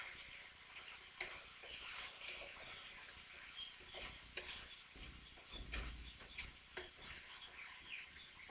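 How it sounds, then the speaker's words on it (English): Bread cubes stirred in a hot pan while making crostini, with a soft sizzle under repeated scraping and stirring strokes of a utensil against the pan, close and quiet, no talking. "Give it a stir, because you want the bread to not stick to the bottom or anything,"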